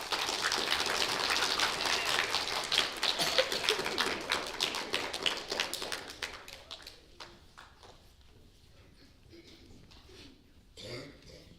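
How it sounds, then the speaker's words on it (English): An audience at a 2024 school spelling bee applauds a speller, steady dense clapping that fades over several seconds into scattered claps, with a few faint voices near the end. "Give them a round of applause."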